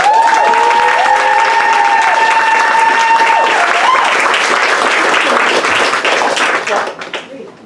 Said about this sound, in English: So please clap for Safia.